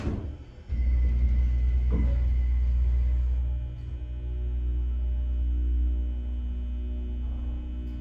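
A 1970s Beckwith hydraulic elevator pump motor with a 2,500-pound capacity kicks on into a steady, loud low hum and rumble with a faint high whine, then settles into a slightly quieter drone.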